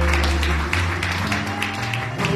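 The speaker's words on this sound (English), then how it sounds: "clap your hands right now" A church congregation claps along during a service, a loud continuous wash of hand claps over low musical tones, with voices mixed in.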